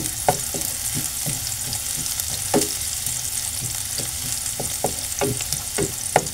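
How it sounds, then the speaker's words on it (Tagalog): Garlic sautéing in a pan for creamy carbonara sauce, a steady crackling sizzle with scattered sharp pops and stirring clicks, close and fairly loud throughout, no voices. "Start na tayo ng pagigisa, guys. Ayan, unahin natin itong bawang."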